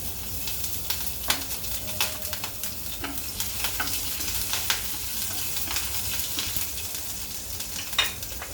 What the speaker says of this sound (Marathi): इथे आपलं तेल तापलं आहे आपण घालतोय जिरं गॅस बारीक करते हिरवी मिरची